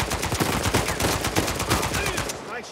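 Gunfire rings out in the video game Uncharted 4: A Thief's End, a loud, dense run of rapid shots close up, with some voice mixed into the battle noise.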